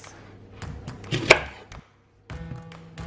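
A knife chops leeks on a board in a few quick, close strikes, with a louder cut near the middle and a short silent gap before more chopping resumes.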